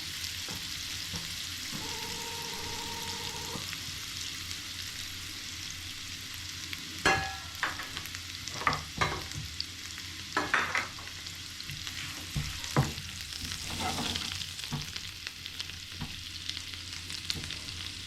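Sliced onions frying in a pan for egg rice, a faint steady sizzle broken by several clattering stirs and scrapes in the second half, heard close without talk.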